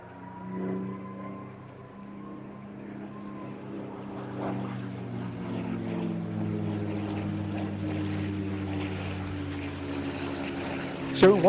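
A P-51D Mustang propeller fighter drones past at an airshow, its engine tone rising and shifting as it passes at moderate distance, fairly faint under background ambience, ending with a brief sharp bump.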